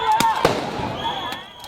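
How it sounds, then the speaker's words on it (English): Police gunfire volleys at a street protest crack out in several sharp reports, one loud and close, others scattered, with a rough crowd and distant noise around them. "More volleys of gunfire from the police, this time with live rounds"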